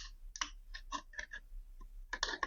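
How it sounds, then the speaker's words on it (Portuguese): A utility knife cuts the front of a plastic piece during a PC build, giving a series of sharp, close clicks and snaps in irregular bursts with short pauses between them. "Eu vou cortar essa frentezinha aqui"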